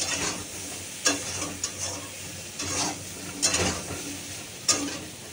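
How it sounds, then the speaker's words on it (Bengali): Eggplant fries in very hot oil, a steady sizzle broken by several sharp scrapes and knocks of a spatula stirring in the pan, close and moderately loud. "আর তেলের মধ্যে আমি বেগুনটা দিয়ে দিয়েছি"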